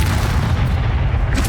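A Bombarda spell explosion in Hogwarts Legacy, a single heavy booming blast with deep rumble filling the short moment, loud and close with no talking.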